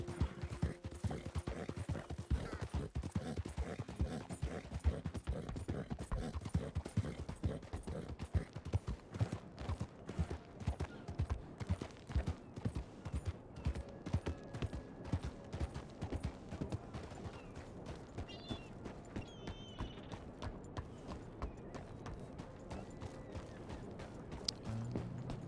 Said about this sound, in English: Just a proper running horse,